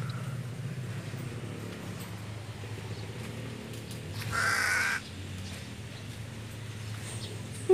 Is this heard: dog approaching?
no